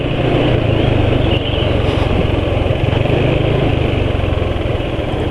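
A Vespa scooter engine runs steadily at low RPM, a loud, close, continuous motor drone with a fine pulsing rhythm and no talk over it.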